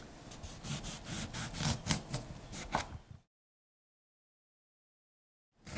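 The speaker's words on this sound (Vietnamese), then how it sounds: "Cắt chanh này ra luôn." Repeated knife strokes slice through a lime on a cutting board in a quick, even rhythm, then stop, leaving silence.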